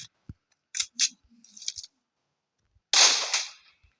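Gunshots in a video game: a few sharp, short cracks and clicks, then a louder burst of noisy fire around the end, with silence between.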